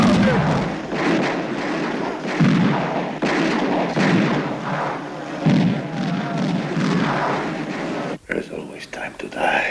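Gunfire crackles through a prison riot scene in a 1980 film about Attica, repeated bursts and booms over shouting voices, with an abrupt sharp cut near the end.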